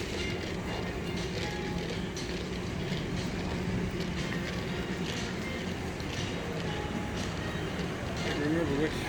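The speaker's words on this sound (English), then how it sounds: "So there's the train." An automated terminal train at Atlanta airport rumbles steadily as a low continuous rolling drone with faint clatter, while people talk nearby over the noise.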